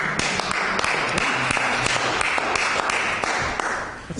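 Applause from the audience at a Senate hearing: a burst of many hands clapping, dense and fairly distant, running steadily for several seconds before tapering off.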